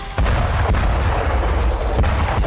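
A JDAM bomb strike on a Russian position in the Russia–Ukraine war produces a loud, continuous roaring rumble with repeated heavy thuds, dense and sustained throughout with no voices.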